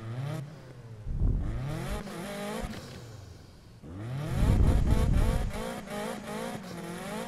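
Sports car in the video game Need for Speed revving and accelerating hard, engine pitch climbing through repeated gear shifts in two long pulls with a brief lift between, loud and close with no talking.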